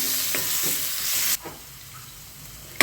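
Onions, curry leaves and coriander sizzle steadily in a hot pan for goat trotter soup, a close, even hiss broken by a few soft stirring scrapes, then quieter frying.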